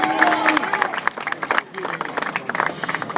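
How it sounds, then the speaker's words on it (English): An event crowd claps and cheers in a busy, uneven burst, with whoops and chatter mixed into the clapping, loud and close, the applause dipping briefly midway before picking up again. "Round of applause for Dune."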